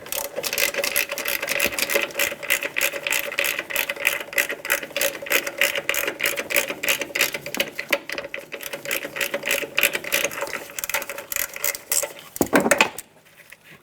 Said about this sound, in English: Just put my socket over, break it free.